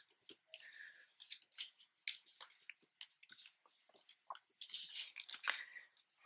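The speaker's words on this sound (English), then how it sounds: "Let me try to hold on to all the papers and yeah, fold that in thirds" Sheets of origami paper being folded in thirds and creased: close, crisp crinkling and rustling in quick irregular bursts, quiet overall and with no talking.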